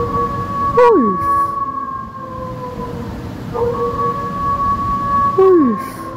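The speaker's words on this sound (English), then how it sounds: "Wolf." A wolf howls in long, wavering tones, with a couple of sharp falling cries over a steady sustained note, fairly loud and close.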